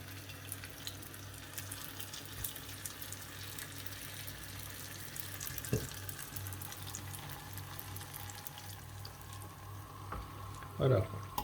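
Almond samsa pastries frying in a pan give off a steady, moderate hiss over a low background hum, with a couple of brief knocks near the end and no clear speech.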